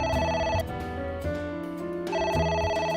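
In AI: The Somnium Files, a phone trills in repeated bursts of electronic ringing, loud and up front, with a brief pause between rings and steady game music underneath.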